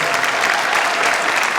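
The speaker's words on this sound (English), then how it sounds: "A round of applause." A short burst of dense audience applause, steady and loud throughout, with no pauses or voices standing out.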